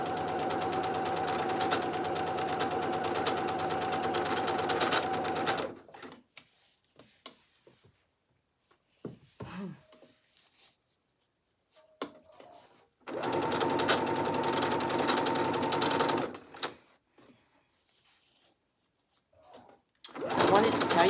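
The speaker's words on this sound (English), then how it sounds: "These are the shoulder straps that I'm sewing together," Sewing machine stitching shoulder straps together for a Simplicity 9745 garment, running in two long steady bursts with quiet handling noises and pauses between them.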